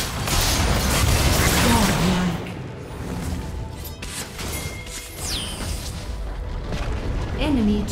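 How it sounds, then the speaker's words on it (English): Turret destruction in the mobile game League of Legends: Wild Rift, with loud crashing booms and mechanical rumbles mixed with whooshes and chiming effects, layered under in-game voice announcements. "Turret destroyed."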